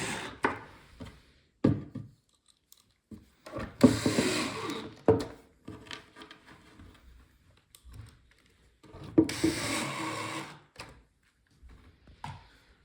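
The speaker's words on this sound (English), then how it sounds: "we're gonna have 3 last screws right here that are gonna go in these holes to secure that back on" Screws are driven into the wooden back of a farmhouse shoe bench: two longer, grinding bursts of driving amid scattered knocks, rubs and handling clatter on wood, with quiet gaps and no talking.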